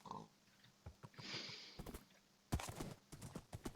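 A horse in Minecraft makes short snorting, huffing game sounds among scattered clip-clop steps and brief grunts, fairly faint against a soft background.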